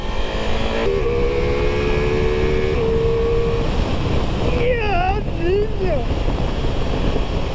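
A Ducati Multistrada V4 S motorcycle engine screams at high revs over loud wind rush, its pitch rising and shifting sharply through gear changes.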